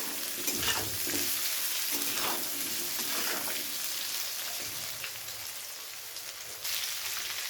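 Potatoes frying with onion in a pan for a mixed vegetable dish with spinach, a steady close sizzle and crackle with occasional stirring scrapes, continuous and moderately loud.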